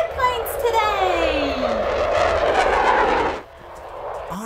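A fixed-wing airplane engine drones loudly and close with a falling whine, holding steady for several seconds before cutting off sharply near the end.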